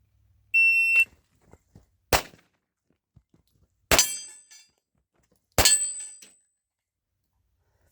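Pistol shots ring steel targets during a timed shooting drill: a timer beep, then three sharp separate reports, each followed by a bright metallic ping that rings and fades, with quiet gaps between them.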